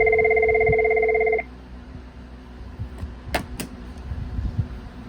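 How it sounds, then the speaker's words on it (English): Cisco IP phone with enterprise firmware ringing, one sustained electronic ring tone of about a second and a half, then stopping into quiet room noise with a couple of faint clicks. "it's a much longer ring."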